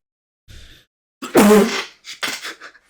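A single sharp sneeze bursts out, followed by a couple of quieter breathy sounds trailing after it.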